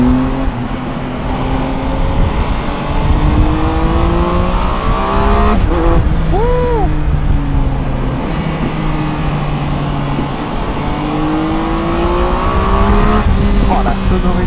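A Triumph Tiger 1200 Alpine motorcycle engine revs hard and close, its pitch climbing and falling in long sweeps with brief dips between surges, loud throughout.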